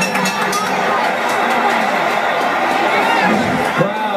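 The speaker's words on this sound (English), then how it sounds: "Crowd starting to get into it." A boxing arena crowd roars steadily through the 11th round of the Pacquiao vs Mosley WBO fight, a dense, continuous wash of cheering and chatter with a slight swell near the end.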